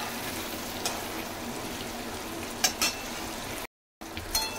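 Paneer frying in butter in a pan gives a steady, close sizzle with occasional faint clicks and stirring touches, broken by one brief gap of silence.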